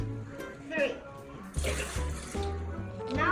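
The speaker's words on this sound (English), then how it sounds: "First, we have to pour in the water." Three cups of water poured into a container for a sugar crystal experiment, splashing and gurgling in bursts close to the microphone, with a voice speaking between pours.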